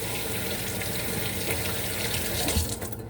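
Tap water runs steadily into a sink, a continuous splashing rush as onions are rinsed under the stream, with no talking.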